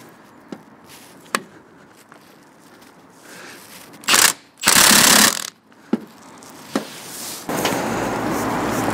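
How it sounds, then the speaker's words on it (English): Ratchet wrench on a wobbly non-impact socket with extension bars, working the manifold nuts of an MG TF, sharp metallic clicks and a couple of loud grinding bursts, close up with no voices. "Now I am using a wobbly socket that isn't impact rated, and I'm using extension bars and all sorts"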